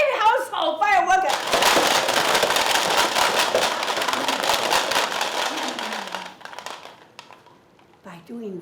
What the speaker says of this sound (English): they will lit up their firecracker.